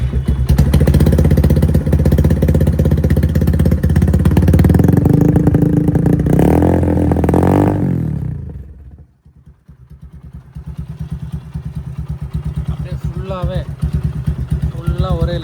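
TVS Apache RTR 180 motorcycle with a new aftermarket exhaust, engine loud and close, rumbling and revving for several seconds, briefly cutting out, then settling into a steady throbbing idle, with someone talking over parts of it.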